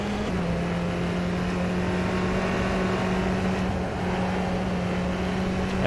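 Tatuus F3 single-seater race car engine in rFactor 2, a steady loud gritty drone held at near-constant revs for the whole stretch, with a brief dip around the four-second mark and no voices.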